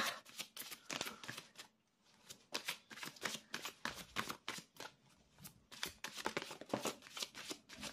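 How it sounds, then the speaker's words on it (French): Oracle cards are shuffled and drawn in quick, crisp riffles and flicks, a soft, close, rapid patter repeated throughout with a brief lull. "je vais tirer une carte du lâcher-prise pour vous"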